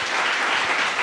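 A church congregation on a Sunday morning applauding together, a thick, continuous wash of clapping with no breaks, fairly loud and close.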